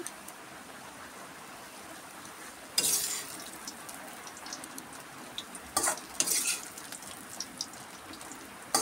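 Crushed garlic tempering sizzles in a pan before going into khichuri, a steady, fairly quiet frying hiss broken by a few louder bursts of spatter and the scrape of a spoon stirring.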